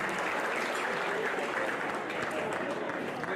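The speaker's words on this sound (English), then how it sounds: "A big round of applause" Round of applause for the restaurants at a fundraiser dinner at Bolingbrook Golf Club, a full room clapping steadily and fairly close with some voices mixed in.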